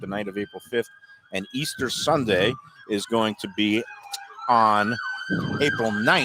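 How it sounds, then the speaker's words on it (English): Emergency vehicle sirens wail at a distance during an outdoor remote broadcast at the Delaware Chicken and Seafood Market, a steady rising and falling tone running faintly beneath continuous talk. "no remote edition of the Lunchbox is complete without wailing sirens going to some emergency somewhere"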